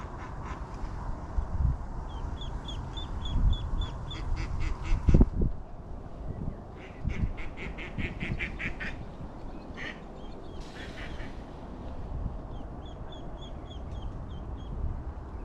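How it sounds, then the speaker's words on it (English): Ducks quack in repeated short runs beside a fishing lake at a live match-fishing event, fairly faint over steady outdoor background noise, with a few louder bumps and clatters close by. "Oh look, baby little duck"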